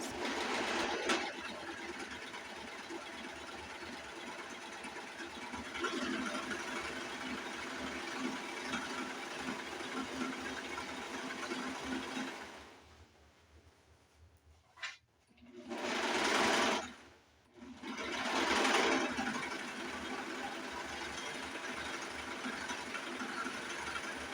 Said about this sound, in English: Then I'm going to turn my fabric the other way and serge down the shorter end